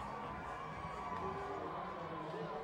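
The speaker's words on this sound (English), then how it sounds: "Listen to this crowd here in Myrtle Beach." A dense baseball crowd at Myrtle Beach on a July 4th weekend keeps up a steady, unbroken roar of cheering and shouting, with children's voices and whoops scattered through the wash of noise.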